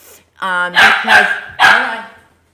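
Dogs bark close and loud, a short whining yelp followed by three sharp barks in quick succession.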